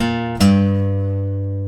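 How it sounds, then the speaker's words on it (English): An electric guitar plays the lead-in lick into the intro riff of a song: a brief sliding figure, then a strong struck note that rings out and sustains, loud and close. "the lead-in lick into the first note of this intro verse, should sound like this"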